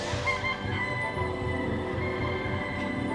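A rooster crows in a sustained, harmonic call against a busy low rumbling background, with clucking fowl nearby and no speech.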